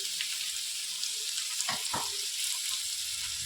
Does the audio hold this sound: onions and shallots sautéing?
yes